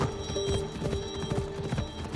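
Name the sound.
horse galloping, from a video game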